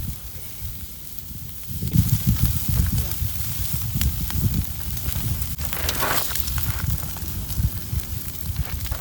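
Bacon frying in a pan over a campfire at a lake campsite, a steady crackling sizzle with low fire rumble running throughout, loud and close, with voices faintly underneath.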